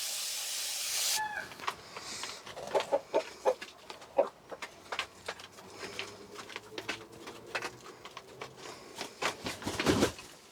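Hens clucking and cackling in short bursts close by, with scattered patter and scratching around them and a louder flurry near the end.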